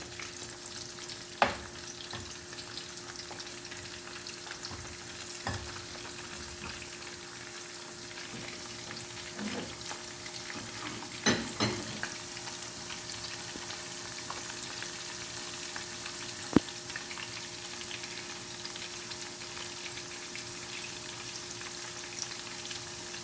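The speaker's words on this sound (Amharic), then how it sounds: "የከተፍኩትን ሽንኩርት ልጠብስ ነው።" Chopped onions fry in a pan for rice with lentils, a steady close crackling sizzle with occasional stirring scrapes and small pops over the whole stretch.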